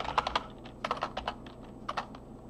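Typing on a computer keyboard: quick, irregular clusters of soft key clicks, fairly faint and close, with short pauses between bursts.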